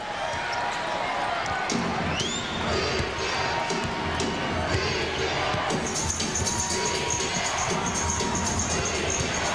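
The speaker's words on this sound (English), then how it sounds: "And the loose ball bounces to Jordan." A basketball bounces on the court during the 1998 NBA Eastern Conference Finals Game 4, Pacers versus Bulls, its dribbles largely buried under a loud, continuous arena crowd and commentary.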